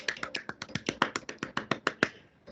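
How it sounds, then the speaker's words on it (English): A light, polite golf clap: about a dozen crisp, evenly spaced hand claps close to the microphone, done by a few people or one person, tapering off at the end. "Golf clap, please. Golf clap."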